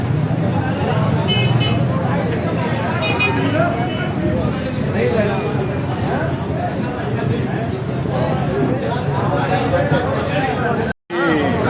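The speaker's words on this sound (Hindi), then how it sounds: "यहाँ पे बहुत ज़्यादा ट्रैफिक जाम हुई है।" Dense, loud street noise from a heavy traffic jam at the main bazaar in Kasur, with continuous engine rumble, occasional horn toots and crowd babble, while people talk over it throughout.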